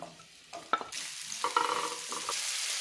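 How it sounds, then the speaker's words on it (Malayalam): Ginger, green chili and onion sautéing in hot oil in a pan, with a steady sizzle and sharp stirring scrapes and clacks swelling midway, close and fairly quiet with no talk. "എണ്ണ ചൂടാകുമ്പോൾ ഇഞ്ചിയും പച്ചമുളകും സവാളയും ഇട്ട് ഒന്ന് ചെറുതായിട്ട് വഴറ്റണം"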